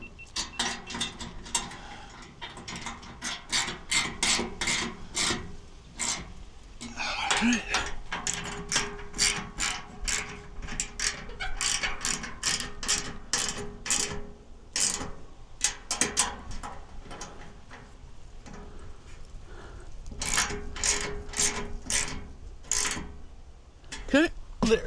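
A socket ratchet tightens bolts on a Tesla Cybertruck, its rapid clicking pawl running in fast bursts close to the mic with brief pauses between strokes.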